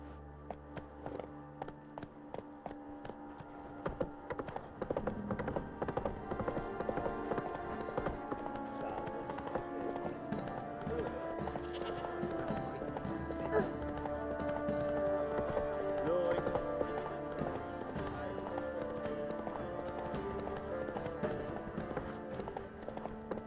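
Horse hooves clip-clop steadily in The Witcher 3: Wild Hunt, a continuous rhythmic trot under a bed of game music and ambience, with a brief line of spoken dialogue.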